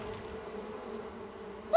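Bees buzz around a hive entrance blocked by a pine cone in a cartoon, a steady, soft drone that holds throughout, with a brief sharp sound at the very end.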